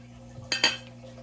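A couple of quick metallic clanks, as cinnamon bread is knocked loose from a metal pan, in an otherwise quiet room.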